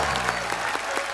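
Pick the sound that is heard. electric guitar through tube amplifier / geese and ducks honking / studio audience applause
studio audience applause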